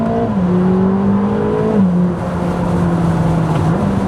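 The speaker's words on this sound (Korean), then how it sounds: "지금 이렇게 비가 올 때 일단 풀스로틀을 한번 해보면 웨트 모드에서 자, 풀!" Ferrari 849 Testarossa at full throttle in wet mode on a rainy road, a loud, steady engine drone climbing in pitch, dipping briefly at a gear change near two seconds, then pulling again, heard from close by.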